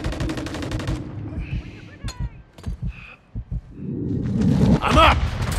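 Bursts of automatic gunfire from Modern Warfare 3 team deathmatch play, a rapid volley at the start followed by scattered sharp single shots, then heavier firing near the end, close and loud with some voice underneath.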